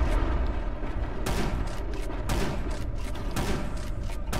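Sustained gunfire in the video game Primal Carnage: Extinction, a dense fusillade of overlapping shots with sharper bursts breaking through a continuous loud roar, no talking.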